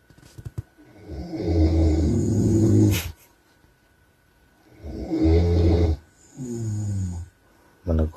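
A man snores: three long, rasping, rumbling snores close to the microphone, separated by quiet pauses, with a short fourth snort starting at the end.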